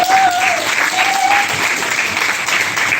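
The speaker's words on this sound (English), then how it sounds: "Give Nadine a round of applause." An audience applauds an award honoree with dense, continuous clapping, loud and close, with a brief voice or whistle-like tone near the start.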